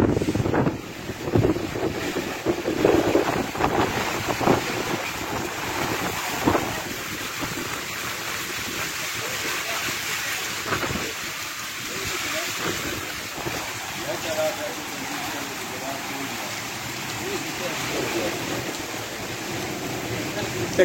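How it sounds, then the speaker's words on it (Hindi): Strong gusting wind buffets the microphone during a rainstorm in Garh Maharaja, a continuous blustery roar with rushing, surf-like noise that stays loud and steady throughout. "गढ़ महाराजा में तेज़ हवाओं के साथ बारिश हो रही है।"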